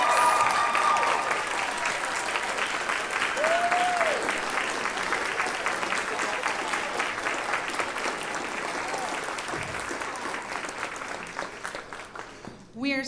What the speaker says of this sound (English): So please give a round of applause for a Girl Scout shero, Miss Marjorie Burrell and Troop